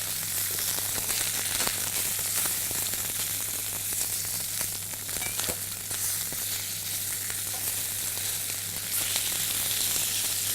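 Salmon fillet frying skin-side down in a pan, a steady close sizzle with crackling pops running throughout, with no talking.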